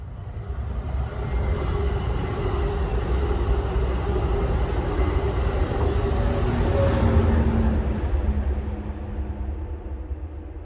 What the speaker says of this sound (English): I hear a train coming.